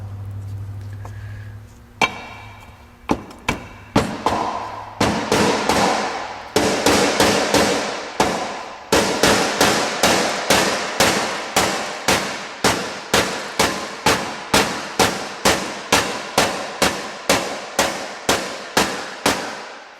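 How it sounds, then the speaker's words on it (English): A rubber mallet taps an engine seal into place on a 2001 GMC Sonoma 2.2L engine. After a few scattered knocks comes a long, steady run of sharp, evenly spaced close taps, loud and alone. "I'm just going to use a rubber mallet and tap around the outside"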